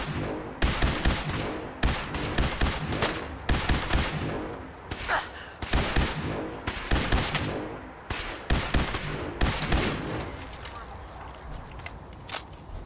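Gunfire in the Fallout 4 video game, dense bursts of rapid shots cracking out in repeated volleys with brief gaps, loud and close, with a voice speaking briefly amid the shooting.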